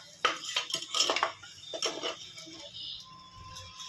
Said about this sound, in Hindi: राई हमारी तैयार है, अभी हम तड़का इसमें डाल देंगे अपना